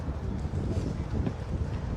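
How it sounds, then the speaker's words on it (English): Strong gusting wind buffets the microphone outdoors at an RV show, a loud, continuous low rumble with no talking. "Oh, it's so windy."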